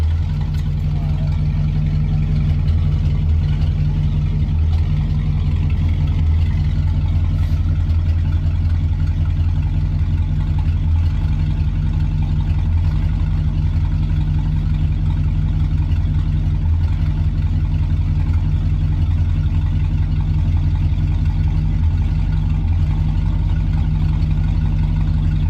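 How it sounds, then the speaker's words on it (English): An old 1952 truck idles steadily in a workshop during rear brake repairs. The engine gives a loud, even, low-pitched rumble that holds unchanged for the whole span, with no talk over it. "I'm gonna crank the truck up and pump the brakes a little bit"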